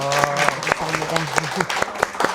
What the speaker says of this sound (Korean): 응원의 박수.